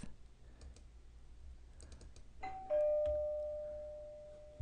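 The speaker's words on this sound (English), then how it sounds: "There, use the doorbell" A ding-dong doorbell sound effect from iMovie rings after soft computer keyboard typing and clicks, giving two bright tones that ring out and decay slowly.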